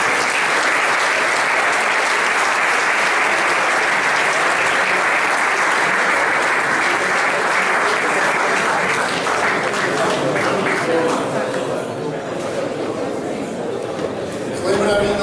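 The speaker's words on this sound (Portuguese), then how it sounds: "Uma salva de palmas para ele." An audience at a round-table event gives loud, sustained applause that fills the room, thinning slightly toward the end with some crowd murmur.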